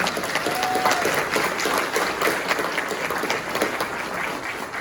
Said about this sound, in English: we'll give him a round of applause, which will be meant for everybody